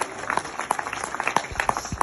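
Scattered hand claps from an audience at a political gathering, a sparse, uneven patter of individual claps rather than a full ovation, fairly close.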